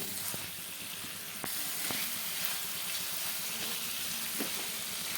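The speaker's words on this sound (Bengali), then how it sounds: "আমি সবজিগুলো দিয়ে দিচ্ছি এবার খুব ভালো করে কষিয়ে নেব" Vegetables and small kachki fish sauté in a hot pan with a dense, continuous hissing sizzle, close and fairly loud, with a few faint clicks of a utensil and no voices.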